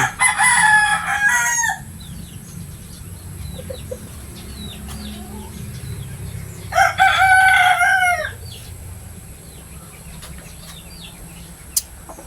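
Roosters crowing twice, loud and near, each crow about two seconds long, separated by quieter stretches of soft clucking and farmyard ambience.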